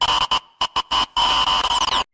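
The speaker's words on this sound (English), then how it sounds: "The actual static sound itself." Harsh static noise from the death screen in the Roblox Slender video game, loud and broadband, cutting in and out in choppy bursts before one long sustained stretch, with a steady hum tone running through it.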